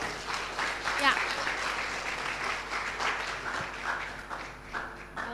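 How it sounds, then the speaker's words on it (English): Audience applause at an international student law colloquium, sustained broadband clapping from a seated crowd filling the room for several seconds, with a brief voice or cheer rising near the start. "Please give big applause to them."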